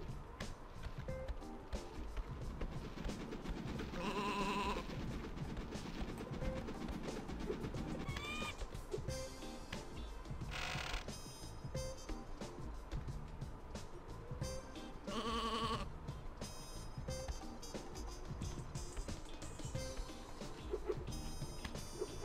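Sheep bleat faintly in the PS1 game Sheep, Dog 'n' Wolf, a few short wavering calls heard amid busy game music and effects, with no speech.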